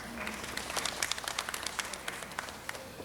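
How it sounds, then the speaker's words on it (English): A small audience at a city council meeting applauds, scattered individual claps standing out distinctly amid a light, thin patter of hands, fairly faint and fading toward the end. "Give her a round of applause."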